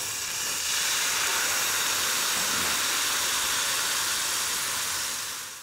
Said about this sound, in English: Now you're going to add some Amontillado sherry.